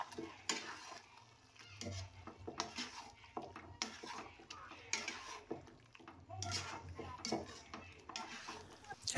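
Cashew paste and capsicum are stirred in a pan for a chicken curry: intermittent scraping and clinking spoon strokes against metal over a faint sizzle, with quiet gaps between strokes.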